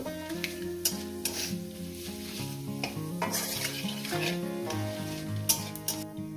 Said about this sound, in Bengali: দিয়ে দেবো দুটো তেজপাতা ওই তেলেই দিয়ে দিলাম দিয়ে দেবো গোটা গরম মশলা জিরে পুরো দিয়ে দিলাম কয়েক সেকেন্ড একটু ভেজে নেব